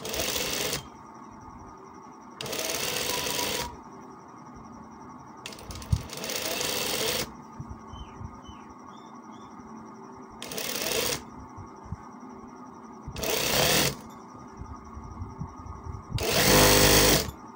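Sewing machine stitching a kameez in repeated short, loud bursts of rapid whirring, about six runs separated by brief pauses, with a faint steady hum between them.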